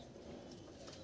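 Pigeons in a loft give a faint, low cooing against quiet background noise.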